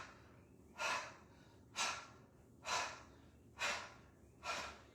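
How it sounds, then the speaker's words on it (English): Five forceful breathy exhales during a breathing exercise, evenly spaced about a second apart, each a short close rushing puff with no talking between them. "make a forceful exhale on each side"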